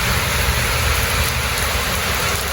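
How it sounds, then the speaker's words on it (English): Heavy rain pours steadily on the houses and ground of Chattel Village in Holetown, Barbados, a dense, even hiss with no breaks and no voices. "The rain has intensified."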